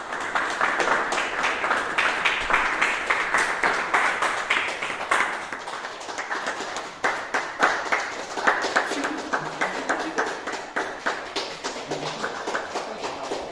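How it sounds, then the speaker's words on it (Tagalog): An audience at a school graduation claps for an honoured graduate, a sustained, moderately close applause of many hands with a slightly uneven, rippling rhythm throughout. "Magbigay ng masigabong palakpak kay Jose Protasio Rizal Mercado y Alonzo Rio"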